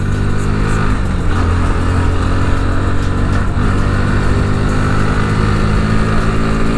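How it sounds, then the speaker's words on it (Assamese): A 2021 Bajaj Pulsar NS 125 motorcycle accelerates with a loud, continuous engine drone that climbs in pitch close by, with no talk. "আমি পাই গৈছোঁ আচল জেগাত য'ত আমি চাম NS-125ৰ বম পিকআপ।"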